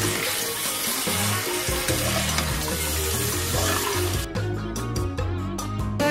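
Chicken pieces for a country-style chicken curry sear in a pan over high heat, a loud, dense hiss running steadily throughout with a strong low tonal hum beneath, then breaking into short choppy bursts near the end.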